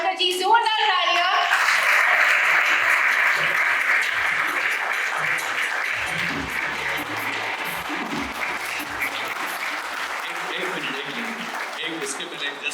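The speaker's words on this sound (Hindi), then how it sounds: "जोरदार तालियां" Loud applause fills a hall at the 18-year celebration of the Taarak Mehta Ka Ooltah Chashmah show, a thick sustained roar of clapping that starts with a brief voice and fades slightly toward the end.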